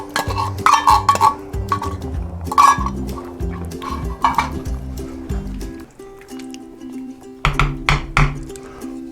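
Adobo sauce is scooped into a pot of chili in wet, squelching glugs and splats, in several bursts broken by short pauses.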